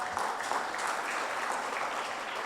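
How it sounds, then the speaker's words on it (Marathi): Audience applause fills a hall at a community gathering, a dense and steady clapping that runs loud from start to finish. "टाळ्या नेमक्याच वाजल्या."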